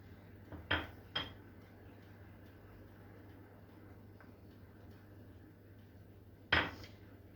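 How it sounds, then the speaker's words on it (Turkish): A spoon stirs pizza sauce in a pot on the stove, giving a few sharp metallic clinks against the rim over a low, steady background hum. The pot is otherwise quiet between the knocks, and no one talks. "Bu şekilde karıştırmaya devam ediyoruz"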